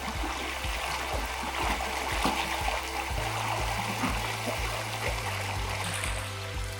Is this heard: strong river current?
yes